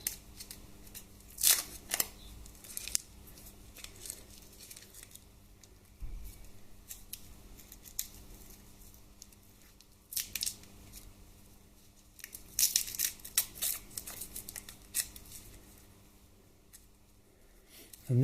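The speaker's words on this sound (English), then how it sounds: "I'll find the end of the bloody tape." A roll of tape handled on a workbench during a Harley Twin Cam 88 rebuild, with quiet crinkling and several sharp ripping snaps as tape is peeled and torn, close and otherwise faint.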